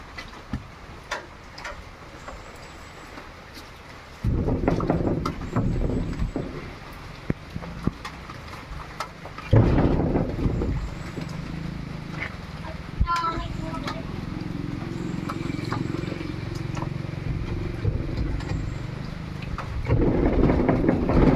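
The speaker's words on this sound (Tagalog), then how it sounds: "maulan yan, umuulan" Steady rain pours throughout with heavy rumbling surges, and voices talk intermittently over the downpour.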